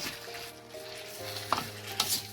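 Boiled bottle gourd leaves are stirred in a pan with a steady sizzle beneath, and a couple of sharp utensil scrapes ring out near the end.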